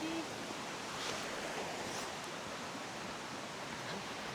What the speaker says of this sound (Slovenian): Reka, potok.